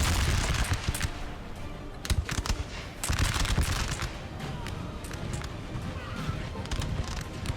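Infantry musket volleys crackle and boom in Napoleon: Total War, with Grenzinfanterie and Jaeger troops in a firing line; dense, loud rolling gunfire with sharp bursts near 2 and 3 seconds over continuous battle noise, and a voice talks throughout.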